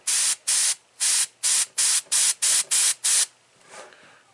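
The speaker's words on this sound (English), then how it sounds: "this airbrush isn't working the greatest" Airbrush spraying paint onto rivets in short, even bursts, nine sharp hissing puffs in a steady rhythm, then a softer, fading final puff; close and clear with no talking.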